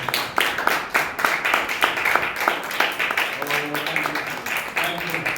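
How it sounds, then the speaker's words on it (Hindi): A church congregation claps to praise the Lord during a sermon, a steady run of sharp, rhythmic handclaps filling the room, with voices talking and calling out over them. "ताली बजाकर प्रभु की तारीफ करें"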